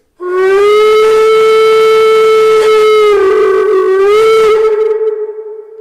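Sound module of a KM1 1:32 gauge 1 model of steam locomotive class 18 201 giving a long, loud steam whistle that wavers in pitch near the end before fading out, no voices.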